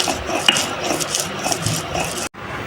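Stone grinding of spices on a traditional Bengali shil-nora, a steady rasping rub of the stone roller back and forth, close and continuous, ending in a brief pause.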